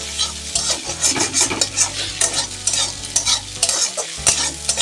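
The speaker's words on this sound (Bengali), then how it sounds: "দিয়ে এবার সুন্দর করে ভেজে নিচ্ছি" Spices with chili powder frying in a pan, a steady loud sizzle with repeated scraping stirs and occasional clinks of a utensil against the pan, with no voices.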